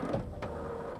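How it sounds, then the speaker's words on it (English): An HP Photosmart 7510 printer runs a printhead cleaning cycle, giving a steady mechanical whirring hum close by with a brief click partway through, and no talk. "this will take your printer a few minutes of clicking and whirring as it pushes fresh ink through the printer's printhead"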